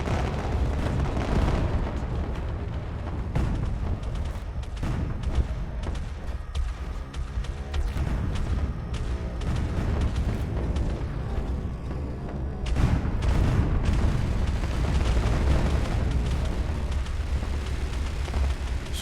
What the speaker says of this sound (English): there's a nice Nova Cannon shot right to the rear